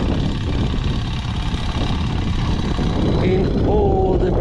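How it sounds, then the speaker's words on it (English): Small boats powered by lawnmower-style engines on a Brazilian river near an anchorage: a continuous low engine drone under wind and water noise, with a passing higher whine near the end. "You hear the noise of these grass mower engines that they use."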